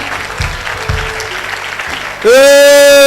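A church congregation bursts into loud, continuous applause and acclaim during a Sunday service, the clapping steady throughout and joined near the end by a sudden loud sustained tone.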